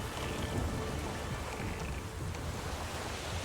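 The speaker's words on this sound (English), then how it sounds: "Alright, we're gonna be sailing in a storm," A storm at sea while sailing a boat in Witcher 3: steady heavy rain and a low rumbling roar of thunder and waves, continuous and fairly faint, with no talk.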